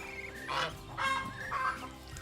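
A small group of about six breeder geese on a duck farm calls in a few loud, drawn-out honking bursts, close by, overlapping against a steady background hum.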